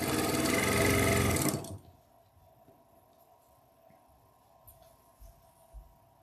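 A sewing machine stitches steadily and loudly for about a second and a half, then stops abruptly, leaving a quiet room with a few faint knocks and handling sounds.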